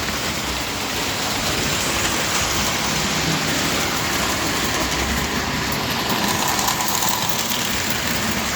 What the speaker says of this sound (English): I'm going to run these trains a little bit